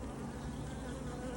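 Bees from a colony packed inside a chimney buzz in a continuous, quiet drone, with no voices over it.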